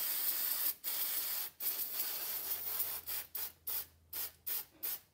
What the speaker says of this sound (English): So I'll cover the parking brake pad so I don't spray the fluid film onto the parking brake shoes.